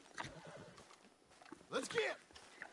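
A horse in the game Red Dead Redemption 2, set in New Austin, gives a loud, wavering neigh near the end after a few light hoofbeats, against a quiet background with scattered talk.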